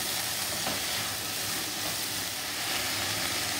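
Tomatoes sauté in a pan for a yam masiyal, a steady, close sizzle and frying hiss that continues without a break.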